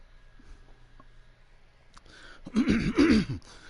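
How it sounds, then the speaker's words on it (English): After a quiet stretch, a person clears their throat loudly up close, a gravelly rasping burst lasting about a second. "I gotta clear my throat right quick."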